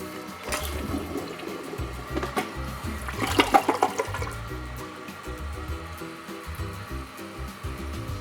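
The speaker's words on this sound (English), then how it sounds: "it only gets water past it when you flush the toilet" A toilet flushes after a new wax seal is fitted beneath it, a loud rushing gurgle of water swelling in the middle and tapering into a steady refill hiss, heard close in a bathroom.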